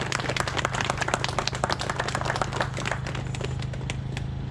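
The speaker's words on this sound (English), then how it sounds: "we need to give him a round of applause as well." Scattered, fairly quiet clapping from a small outdoor crowd at a ghost bike memorial ceremony, individual claps audible over a steady low hum.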